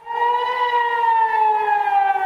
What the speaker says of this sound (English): Sirens sounding across Israel as Iran launches an attack.